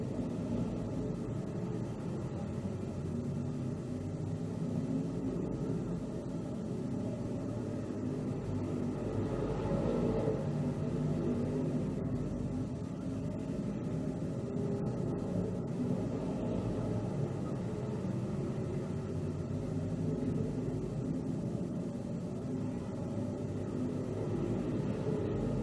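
Race cars circle the oval at Rockford Speedway in 1982, a steady distant roar of engines rising slightly mid-way, continuous and uniform with no voices.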